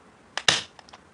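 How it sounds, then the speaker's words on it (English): A staple gun fires into a Ganpati festival decoration, giving a single sharp snapping clack preceded by a light click and followed by a few small taps, close and otherwise quiet. "now I'm just going to use my stapler gun"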